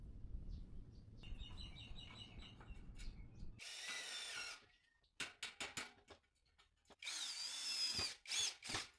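A power drill bores pilot holes into a light partition wall frame, sounding as several close, loud whining bursts of a few seconds each, split by short gaps, with one steady low hum early on and faint bird calls in the background.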